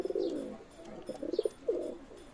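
A Pakistani Teddy pigeon coos close by in soft, throaty bursts, a few short rolling coos separated by brief pauses, with light bird chirps behind and no talking.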